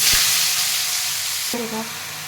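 Potatoes and yardlong beans fry in a wok with a loud, steady, close sizzling hiss throughout, and a brief voice-like tone breaks in near the end.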